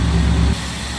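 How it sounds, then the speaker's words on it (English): A 1953 Cadillac Coupe DeVille's fuel-injected V8 with tuned port injection idles with a loud, steady low rumble under the open hood, then drops to a quieter, even hum partway through; no talking. "Nice little rumble out of that fuel injected V8."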